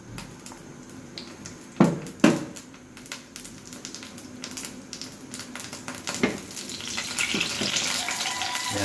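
Oil sizzling in a pan with dried fish frying, a steady crackle, a couple of loud clanks of utensils, and the sizzle growing brighter toward the end.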